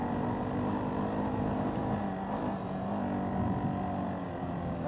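Kawasaki Bayou 400 4x4 ATV engine bogging in fifth gear, a steady low droning labor that holds flat and strained without rising, heard close and alone.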